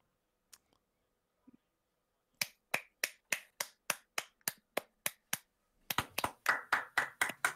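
A few sharp claps ring out one by one at a steady pace, then come faster and denser in a short burst at the end.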